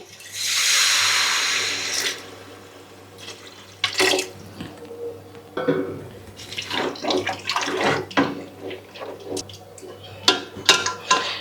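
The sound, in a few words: water added to cooking pan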